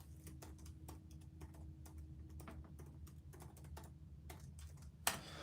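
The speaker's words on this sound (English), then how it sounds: "Let me really quickly type this in real quick." Quick keystrokes on a computer keyboard, irregular bursts of light clicks close by, ending in a louder clack, with no talk.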